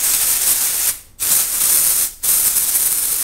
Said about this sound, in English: You don't have to do this if you don't have an air compressor.